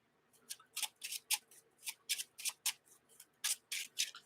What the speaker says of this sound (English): So now I got to shuffle